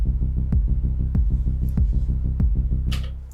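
A Digitakt plays a beat with a sidechain-compressed pumping effect, deep bass pulses swelling and ducking in a steady rhythm under regular kick hits, loud and upfront before fading out at the end.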